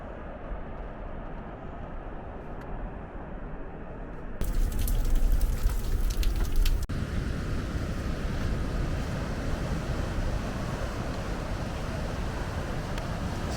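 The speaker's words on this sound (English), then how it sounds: "And then it disappears here in the waterfall." Nevada Falls on the John Muir Trail in Yosemite, a broad continuous roar of rushing water heard from a bridge above the falls, loud and unbroken, with wind buffeting the microphone and no talking.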